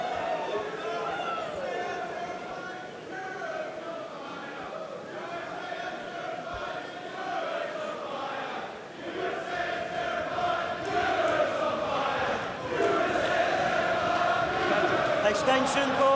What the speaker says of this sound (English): again, you can hear the crowd at home